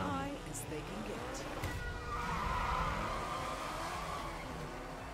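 Race cars on a track in Hitman, engines droning and whining as they pass at a distance, a steady roar under a talking voice.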